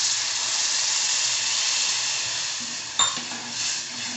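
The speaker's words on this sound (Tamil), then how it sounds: "இப்போ நம்ம வந்து ஒன் கிளாஸ் ஆஃப் வாட்டரை இதில் போ ஊற்றலாம்" Water poured into a hot pan of frying onions and green chillies gives a loud, steady hiss of sizzling steam, with a brief clink near the end.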